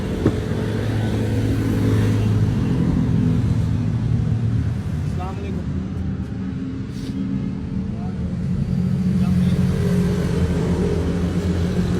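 A 2023 Honda City engine runs steadily close by, a continuous low rumble with mild swells in revving over about twelve seconds, with no speech over it.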